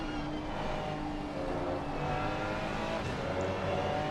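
Racing cars, a BMW and a Ferrari, at Brands Hatch, a steady engine drone running continuously under a broad roar with no clear pass-by peaks, moderately loud throughout.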